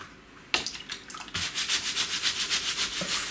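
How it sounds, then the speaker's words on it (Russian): A brush scrubs slime-stained clothing, starting with a few scattered strokes and then settling into rapid, even back-and-forth rasping strokes close up. "Вот так вот щетка сейчас потрю."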